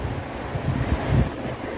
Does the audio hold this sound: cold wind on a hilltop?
yes